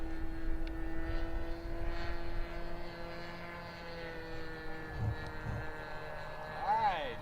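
A KS57 Kadet Senior model airplane on its maiden flight, a steady droning propeller engine hum holding a near-constant pitch, with a faint pitch swoop near the end as it passes, distant, with wind and outdoor background.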